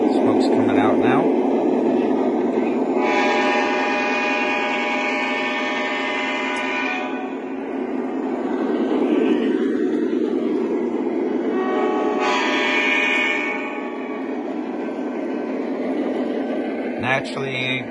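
An O scale model locomotive runs along its track with a steady rumbling whir, twice sounding a horn, and brief talk appears at the start and end.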